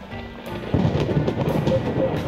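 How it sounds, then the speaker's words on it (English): Steady rain with low rumbling thunder in the café ambience of the game Coffee Talk 2: Hibiscus and Butterfly, a soft continuous wash that swells louder partway through, with no voices. "It's raining outside."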